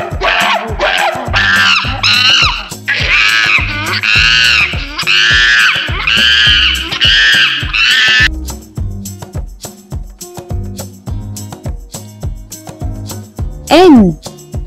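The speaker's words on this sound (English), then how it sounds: "Monkey. And the sound of the monkey is..." A monkey gives a series of loud, rising and falling shrieking calls in quick succession over background music, followed by a short squealing call near the end.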